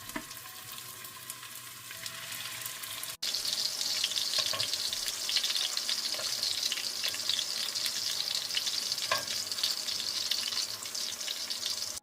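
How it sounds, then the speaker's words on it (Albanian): Meatballs fry in well-heated oil in a pan, a steady close sizzle that starts quieter and jumps louder after a few seconds, then crackles on continuously with occasional pops, no voices. "vazhdojmë të shtojmë qoftet dhe I fërgojmë për disa minuta derisa të na skuqen"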